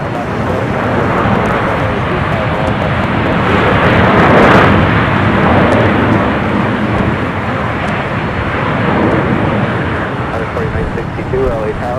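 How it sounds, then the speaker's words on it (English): A one-year-old CMA CGM Air Cargo Boeing 777 freighter, inbound from Mexico City, lands at Los Angeles International Airport, a loud broad jet engine roar swelling toward the middle and easing off, with a voice talking over it. "The 777 freighter coming in from Mexico City, flight 8915."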